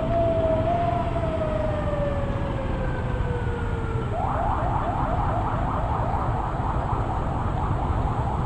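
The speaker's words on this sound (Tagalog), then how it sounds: "May ambulansya." Ambulance siren on a road, loud and continuous, first a long wailing sweep that then switches to a rapid yelping warble, heard over steady traffic rumble with no talk.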